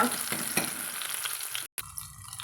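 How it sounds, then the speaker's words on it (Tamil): Okra frying in a pan for a spicy tamarind curry, with a continuous close sizzle and a few stirring scrapes, broken by a brief dropout near the end; no voices. "வெண்டங்காயை நல்லா வறுத்துக்கலாங்க"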